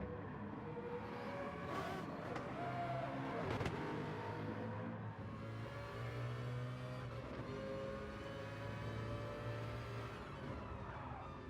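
Racing-game cars scream past under hard acceleration and braking, a loud close engine note sweeping in pitch with overlapping gear changes and a sharp burst near the start, no voices.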